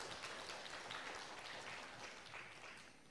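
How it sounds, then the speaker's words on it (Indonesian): Audience applause at a public debate for Magelang mayoral candidates in 2020, sustained crowd clapping heard at a distance, fairly soft and slowly tapering toward the end. "Berikan tepuk tangannya yang meriah untuk pasangan calon nomor urut 1"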